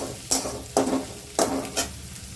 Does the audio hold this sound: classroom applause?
no